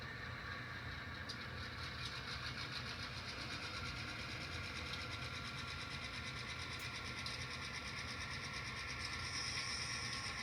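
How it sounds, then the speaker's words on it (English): An N scale model locomotive sound decoder running with dynamic brakes engaged gives a steady whirring drone with a thin, high electronic whine, holding an even level throughout. "Got dynamic brakes on now."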